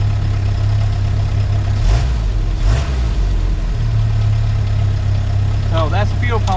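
A 1997 Jeep Wrangler engine idles steadily and loud nearby after a fuel pump repair, with a brief surge in the middle, while someone talks over it.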